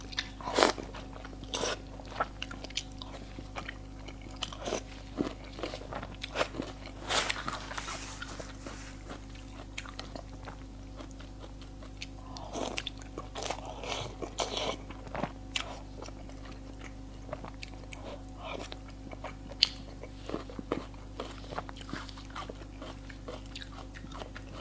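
Close, quiet chewing and crunching as spicy pig brain is eaten in a Chinese mukbang, with scattered soft bites and mouth sounds over a steady low hum, no speech.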